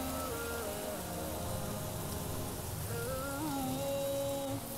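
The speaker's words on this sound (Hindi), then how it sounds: "मूसलाधार बारिश हो रही है।" Heavy torrential monsoon-style rain pours down outside a kitchen window, a dense, steady hiss of drops hitting surfaces that carries on without a break, with faint tonal sounds drifting in from the surroundings.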